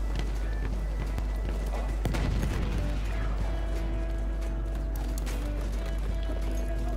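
Horse hooves clip-clopping at a run in the World War I shooter Battlefield 1, mixed with a sharp impact and game mechanisms, steady and fairly loud throughout.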